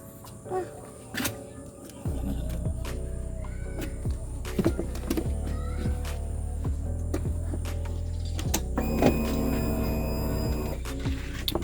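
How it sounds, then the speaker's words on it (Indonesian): An automatic motor scooter with an oil-consumption fault and smoke from its breather hose is started; a few clicks and faint taps lead to the engine catching, then it idles steadily and close by under faint voices. "kita coba dulu hidupin mesinnya biar teman-teman bisa melihat"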